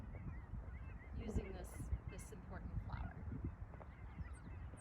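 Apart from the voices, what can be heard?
ducks and birds calling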